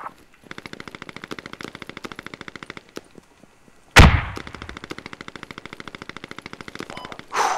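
Gunfire in the tactical shooter Squad: rapid, evenly spaced automatic bursts close by, a sharp louder shot or blast midway, then more sustained automatic fire and a final loud report.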